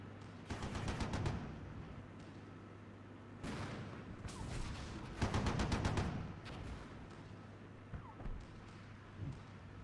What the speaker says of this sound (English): Okay, mortars firing.